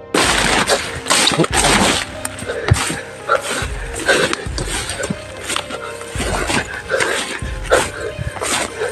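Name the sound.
dogs barking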